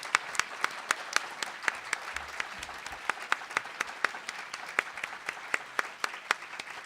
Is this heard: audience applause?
yes